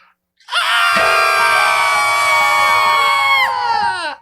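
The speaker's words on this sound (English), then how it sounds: "And they all scream." A large crowd of children screams together, loud and sustained for about three seconds before trailing off, a synthetic shrieking chorus with no speech over it.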